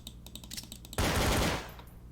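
Gunfire from Trouble in Terrorist Town, a burst of rapid close shots erupting after a second of quieter clicking and in-game sounds, loud and dense for about half a second before tailing off.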